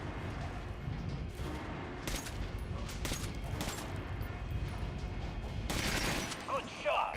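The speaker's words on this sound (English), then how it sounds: "Try shooting for the center of the regular dummy's chest." Gunfire at regular and armored training dummies in Metro: Last Light Redux, with several sharp shots spaced through the passage over a steady background and a louder burst near the end.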